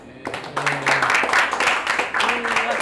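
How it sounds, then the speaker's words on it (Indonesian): A row of students in a classroom clapping together, a dense, steady patter of hands lasting a few seconds, with voices talking over it. "Satu deret tepuk tangan."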